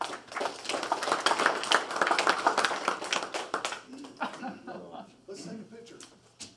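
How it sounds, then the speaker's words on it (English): Audience at a city council meeting claps for a group of Girl Scouts, a dense burst of hand clapping that thins and trails off over several seconds, with voices mixed in near the end. "we applaud each and every one of you"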